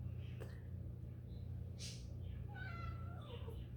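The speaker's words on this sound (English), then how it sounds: "Did you hear my cat?" A cat gives a couple of faint, short meows in a quiet room with a low steady hum underneath.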